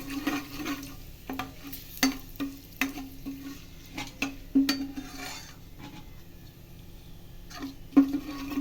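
Hing, bay leaf and red chilies sizzle in hot oil in a pan for raw mango sambhariyu, a steady close fry broken by repeated clicks and scrapes of a spoon stirring against the metal.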